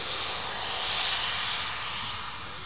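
A Eurofighter Typhoon jet engine at RAF Coningsby, running without afterburner, gives a loud, steady, broad roar that swells slightly, then eases off, with no talk over it.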